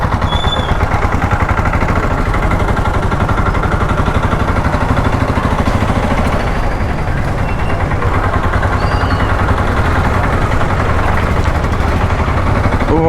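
A scooter engine runs steadily in first gear with a continuous loud mid-pitched drone and rapid putter, close by and alone, with no speech.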